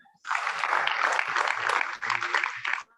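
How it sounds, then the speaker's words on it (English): Broad crowd applause at a virtual university matriculation ceremony, steady dense clapping that starts abruptly, runs for about two seconds, dips briefly, then swells again before cutting off. "Clap for it."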